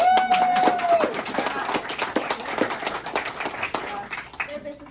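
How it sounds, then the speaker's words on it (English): Scattered clapping from a small audience at a talk about homelessness, applauding the speaker's parents, fairly close and uneven, with a voice speaking over the start and the clapping fading toward the end. "and I'll give them a round of applause"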